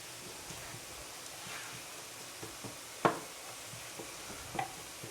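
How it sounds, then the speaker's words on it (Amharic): Meat frying with onions in a pan, a soft steady sizzle with occasional stirring scrapes and a couple of sharper knocks, quiet and close with no talking. "የፍርፍሩን ስጋ ጨምረናል ከሽንኩርቱ ጋር ያቆላላን ነው"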